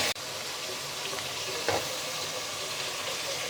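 Mutton pieces frying with garam masala in a hot pan give a steady close sizzle and crackle, with a brief stirring scrape midway and no talking.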